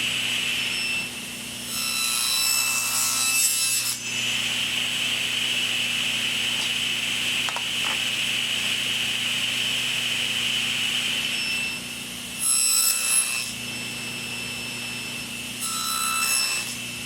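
Hand saw cutting a miter in a long wooden piece for a four-corner grain-matched box, heard in several short bursts of rasping strokes over a steady background hum.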